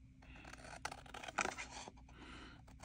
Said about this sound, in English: using my big old pink scissors.